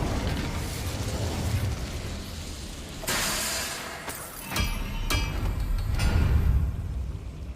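Incendio fire spell in Hogwarts Legacy, a loud whooshing burst with sharp crackling pops over a rumbling game background, repeated in several bursts.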